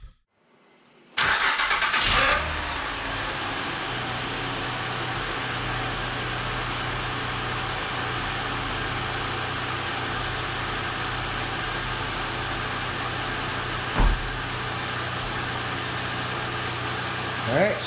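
A 2007 Honda Odyssey engine cranks and fires after a valve cover repair, then settles into a steady, close idle for the rest of the clip, with a brief knock or thump partway through.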